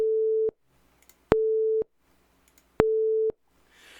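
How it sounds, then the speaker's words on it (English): Three short, steady 440 hertz sine tones, the A above middle C, each about half a second long, separated by silence, with sharp clicks where each beep starts and stops. "we're going to generate a 440 hertz tone."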